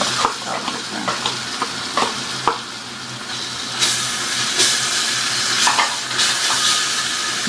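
Garlic and ginger paste hitting hot frying oil in a pot for Hyderabadi tahari, a steady close sizzle and hiss with occasional stirring clatter.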